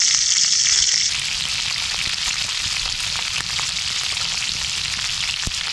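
Grouse hearts, gizzards and bacon frying in a pan outdoors, a steady loud sizzle and crackle with occasional sharp pops, continuous and close with no talking.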